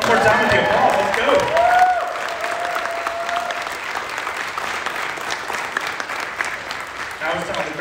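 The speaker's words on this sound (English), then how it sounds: "One more time with the applause." A convention panel audience gives a strong burst of applause that swells during the first couple of seconds, then fades into a softer, lingering patter of scattered clapping with crowd murmur.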